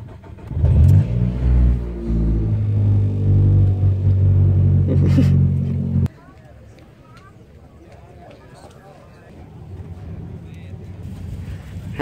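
A classic car engine rumbles loud and close, revving up and holding for several seconds before cutting off abruptly, leaving quiet background noise.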